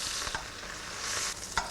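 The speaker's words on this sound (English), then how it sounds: "Oh, can you hear that sizzling?" Garlic, ginger and spring onions sizzle steadily in a hot pan, a continuous bright frying hiss with a couple of brief stirring scrapes, close and alone.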